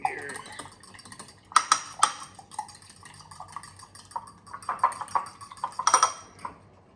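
A fork whisks eggs and a dab of milk in a bowl for an omelette, producing sporadic light clinks and taps against the bowl, quiet and close, with a few sharper strikes.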